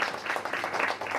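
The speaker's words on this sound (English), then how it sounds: "So we can clap for them." An audience claps for prize donors at a legacy tribute event, a brief, moderately loud burst of many hands that blends into a continuous patter.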